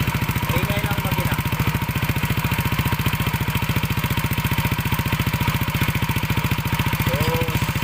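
A Yamaha NMAX 155 scooter engine with excessive engine noise idles steadily with a rough, rapid putter, close and loud throughout, with faint murmured voices in the background.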